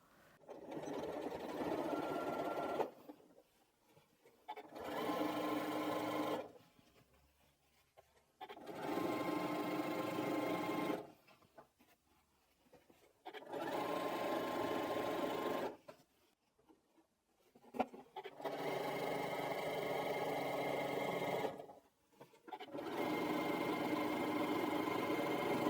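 Sewing machine zigzag stitching down scrappy quilt binding, running in steady bursts of several seconds each with short quiet pauses between, close and fairly loud with no talk.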